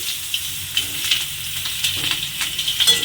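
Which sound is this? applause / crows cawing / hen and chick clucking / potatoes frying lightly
potatoes frying lightly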